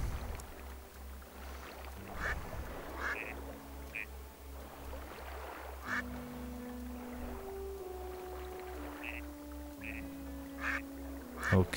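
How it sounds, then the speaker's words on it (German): Ducks quack in the video game Zelda: Twilight Princess HD, with scattered short quacks over soft, steady game music and a low pulsing background. "Paar Enten waren da."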